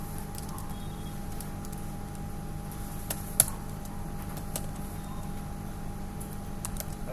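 Typing C code on a computer keyboard, scattered soft clicks and a single louder tap over a low steady hum, quiet and close, no talking.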